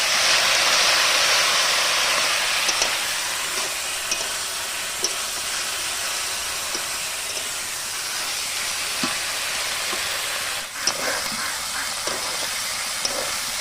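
Boiled taro stolons fry in rohu fish oil, making a continuous even sizzle and hiss with scattered clicks and clatters from stirring, close and fairly loud throughout.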